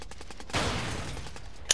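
Gunfire in Warzone 2: a string of quick shots, then a sudden louder burst that swells into a rough, sustained roar, and finally one sharp crack near the end.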